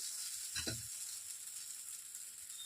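A jowar dosa cooks on a hot pan with a soft, faint sizzle, plus one short scraping burst early on before the quiet frying hiss settles.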